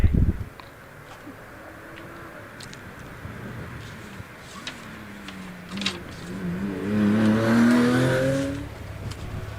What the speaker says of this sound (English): That beautiful engine, that sounds fantastic, doesn't it? 6 cylinders of Porsche power, it sounds terrific.